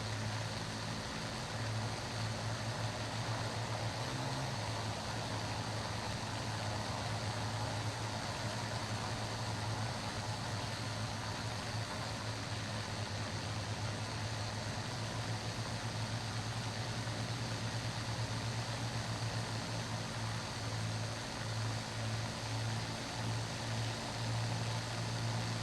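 A WWII propeller fighter engine in War Thunder drones steadily and loudly throughout, with a constant low hum and no pauses or talk.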